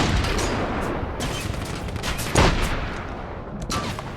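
Dense, continuous gunfire crackles throughout the video game The Saboteur, with a louder burst midway and another near the end, like a sustained firefight at moderate distance.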